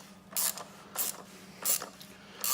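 Short wrench tightening a reservoir cap on an Audi A4 V6 TDI, heard as four bursts of close ratcheting creaks with brief pauses between turns, each loud and dry.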